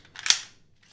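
Smith & Wesson Shield pistol magazine dropping free of the grip: one sharp metallic clack at close range, followed by a brief rattle and a faint tap, with no talk.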